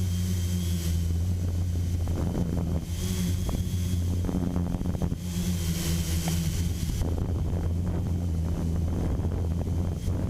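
Quadcopter drone with a brushless gimbal mount flying, giving a steady, loud motor and propeller drone with strong wind buffeting on the microphone that runs throughout, with no voices.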